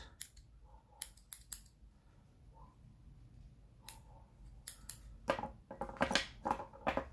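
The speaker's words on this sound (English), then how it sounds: "Snip off any little flyaways." Small scissors snip off loose flyaway threads in a series of crisp, close snips, a few spaced apart early and then quicker clusters of cuts toward the end, over quiet background.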